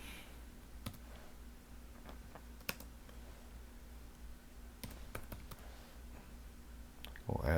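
Small, light clicks of a computer keyboard come at an irregular pace, typing a few characters quietly over a faint room hum with long pauses in between.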